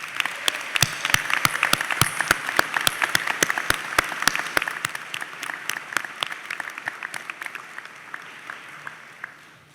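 A large commencement audience gives sustained applause to graduates' families, dense sharp claps that swell, then thin out and fade over about ten seconds.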